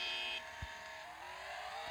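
A motorcycle engine in the Traffic Rider video game holds a steady high whine as it accelerates, with a brief low thump partway through.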